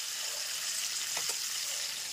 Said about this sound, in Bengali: ডিমগুলোকে একটুখানি চারিদিকে চিড়ে দিয়ে তারপরে ভাজতে দিয়েছি